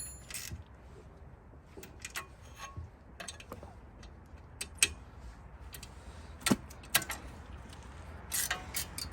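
Bolts being hand-tightened on the front strut of a 2010 BMW 535i, with faint metallic ticks, clicks and scrapes scattered irregularly over a quiet garage background and no voice.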